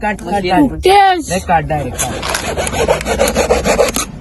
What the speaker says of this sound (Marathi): हे पहा आडी घासतोय तो आडी आरामात घासजो